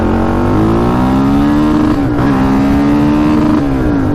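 A car engine, fast and with iffy front wheel bearings, revs hard and loud from inside, climbing quickly in pitch, dipping at a shift, then climbing again toward the rev limiter with a steady droning roar.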